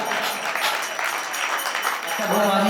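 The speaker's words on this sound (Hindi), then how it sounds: "जोरदार तालियां बजाइएगा" Steady applause from a gathered crowd at a stone Jain temple foundation-laying ceremony, continuous and dense for the whole stretch, with voices mixed in beneath and a tone entering near the end.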